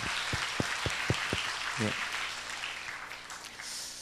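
At a Sunday church service, a few loud, separate claps come first, then the congregation's applause for the Bible school teachers spreads into a soft, diffuse patter, with some talk underneath.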